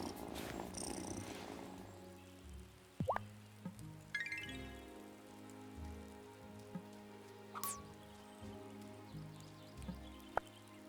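In the video game Wylde Flowers, a cat purrs softly and steadily under a gentle rain ambience, with scattered small plops and chimes from the game.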